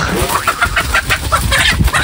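Chickens cluck in quick, close, repeated bursts over a busy, noisy background, with no talking.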